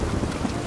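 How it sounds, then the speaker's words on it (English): Rain pours steadily in a stormy scene from the period drama Bridgerton, a dense wash of downpour with a low rumble beneath it, heard briefly without talk. "We can wait out the rain there."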